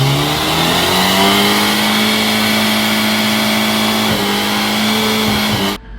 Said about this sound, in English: that little engine somehow makes one of the coolest sounds out of any 4-banger ever